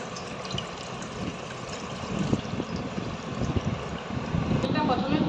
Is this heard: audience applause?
no